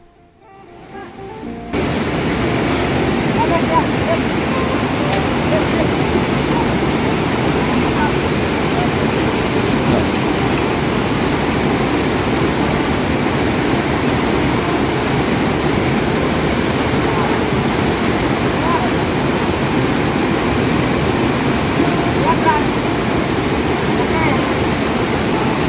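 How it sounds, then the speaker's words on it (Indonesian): A jungle river with a strong, fast current roars steadily and loud up close, a dense unbroken rush that begins after a brief quieter moment and continues unchanged. "setiap kali melihat sungai dan arus deras seperti ini"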